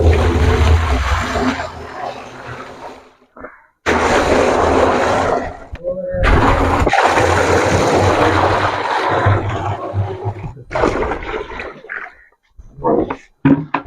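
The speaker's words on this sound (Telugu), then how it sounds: "ఇందులో వాటర్ ఫిల్ చేద్దాం." Water gushing into a drum as it is filled, a loud, close, broadband rush that stops and restarts in several bursts, with brief gaps between.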